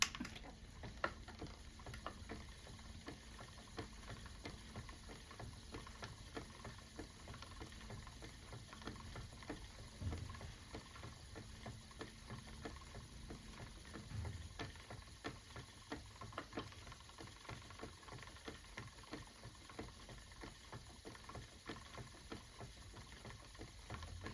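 A spinning wheel spins Shetland wool, a soft, steady, rhythmic ticking and pattering of the treadle and wheel running continuously at a faint, even level throughout, with no talk.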